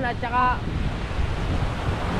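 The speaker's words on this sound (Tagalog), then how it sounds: "hindi tayo makatawid kasi malakas ang alon" Strong sea waves breaking near the shore of an island, a loud continuous wash of surf mixed with wind buffeting the microphone, with a brief spoken phrase near the start.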